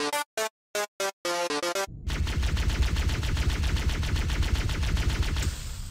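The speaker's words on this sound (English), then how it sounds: "That's the plasma pistol, but which game?" The plasma pistol from the Halo video games fires a handful of separate, sharp energy zaps, then a dense, rapid stream of shots that continues without a break, loud and close.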